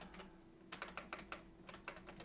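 Fingers type on a computer keyboard at a desk, a quick irregular run of close, crisp key clicks after a brief pause, with no voices.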